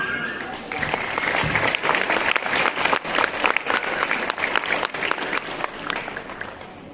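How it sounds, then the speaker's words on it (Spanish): A crowd at a San Mateo queen pageant gives a hearty round of applause, building in the first second and staying full and lively, with some sharper individual claps standing out, then thinning slightly at the close. "Vamos a brindarles otro aplauso a quienes están con nosotros en las mesas del presidio."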